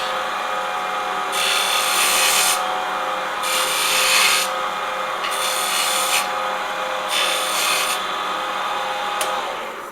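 A lathe tool cuts wood during spindle turning, four bursts of loud rasping, scraping hiss each lasting about a second, separated by short pauses over a steady motor hum.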